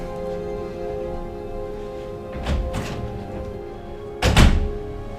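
A door opens as someone enters, giving two dull thunks in quick succession followed by a louder thud a moment later over a low steady room hum.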